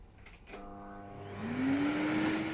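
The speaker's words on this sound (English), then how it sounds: "So I'll start the vacuum cleaner" A CNC tyre truer's vacuum cleaner motor starts up with a click, its whine rising in pitch as it spins up to a steady, loud drone.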